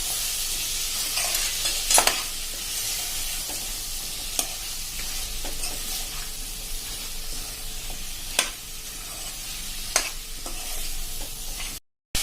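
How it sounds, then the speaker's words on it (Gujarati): A spoon stirs potato and pea curry with masala in a pan, the food sizzling and frying continuously while several sharper scraping strokes break through at irregular intervals. "અને આ બધું આપણે હવે સરસ મિક્સ કરી લેશું."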